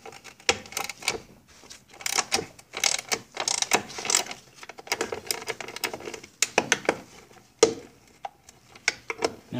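A half-inch socket ratchet loosens bolts on the tiller handle of a Johnson 9.5 HP outboard, giving close, loud bursts of rapid clicking and ratcheting with brief pauses between runs.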